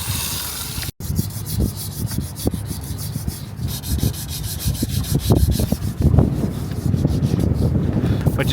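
Steady hand sanding on board the wooden sailboat Tally Ho, a continuous close rasping rub with rhythmic strokes, accompanied by light wind buffeting the microphone.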